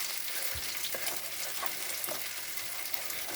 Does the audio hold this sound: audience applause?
no